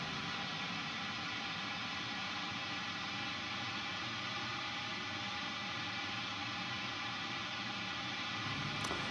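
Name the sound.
pink noise test tone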